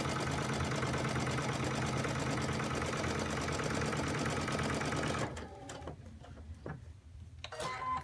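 A sewing machine runs steadily, stitching a seam in black thread on fabric placed right sides together, then stops and gives a few short, quieter bursts as it nears the end of the seam.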